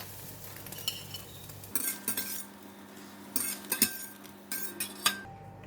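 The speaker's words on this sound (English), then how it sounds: "I'm going to switch off the heat and then just take it out from the pan first" Cooked egg is lifted out of a frying pan, with a faint background sizzle broken by clusters of sharp metal utensil scrapes and clinks against the pan, close and fairly quiet, with no talk.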